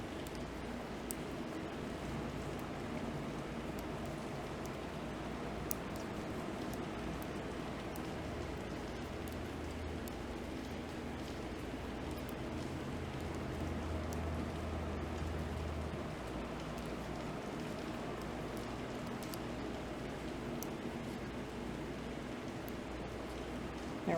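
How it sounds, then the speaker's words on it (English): Rainwater running off a roof onto the ground below, a steady, soft, hissing wash of falling water that stays even and fairly faint throughout. "it's just the water running off the roof and onto the ground below"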